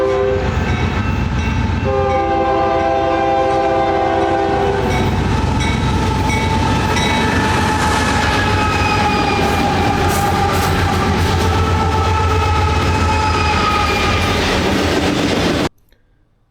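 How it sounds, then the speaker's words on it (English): Union Pacific freight train on the Huntington Sub near Nampa rolling past, loud steady rumble and wheel clatter with a sustained multi-tone horn blast at the start, then ending abruptly. "we're going to see how fast the train comes by here"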